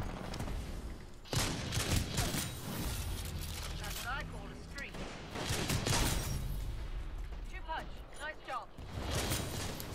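A new sidearm fires in Titanfall 2 in rapid, punchy bursts over a busy battle soundscape of explosions and other weapons, while a voice chatters excitedly underneath throughout.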